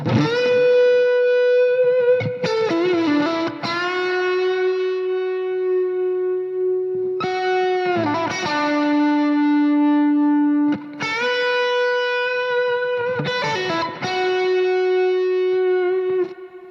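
Electric guitar phrase with distortion, sustained bent notes and quick picked runs in several bursts, loud and up close, with no talk.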